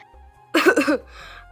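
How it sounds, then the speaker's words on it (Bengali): A person clears their throat with a short burst of coughing, a single close, loud cluster of rough hacks lasting about half a second with quiet before and a faint breathy trail after. "ইনায়াত দ্রুত গলা খুক খুক করে কেশে পরিষ্কার করে বলল"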